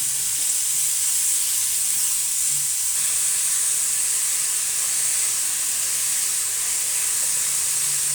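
Tomato added to a hot pan while cooking pasta, a loud, even hiss and sizzle that holds steady without a break, close up with no voices.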